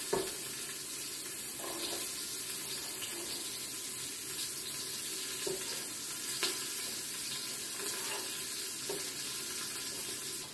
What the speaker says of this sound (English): And then we're going to add our veggies in here, our peppers and our onions.